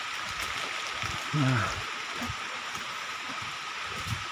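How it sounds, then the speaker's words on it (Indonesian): Rain falls steadily during a fishing trip in an extreme rainy season, a constant hiss filling the background while a voice briefly murmurs. "ini hujan saudara-saudara mulai turun kembali"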